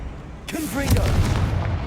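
A Confringo fire spell cast in the video game Hogwarts Legacy bursts into a sudden whooshing blast with a rumbling low tail, over a voice speaking.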